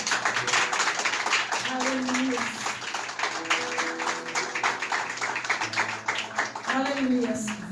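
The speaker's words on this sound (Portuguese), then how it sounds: "louve ao Senhor com as tuas palmas" A church congregation claps hands in praise, a dense steady patter of many hands under a voice speaking and exclaiming over it.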